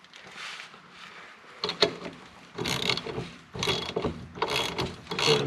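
A hand ratchet wrench clicks as it tightens a rusted 14 mm bolt during a shock absorber install on a 1993 Geo Metro, in bursts of close, rasping ratchet strokes with short pauses between.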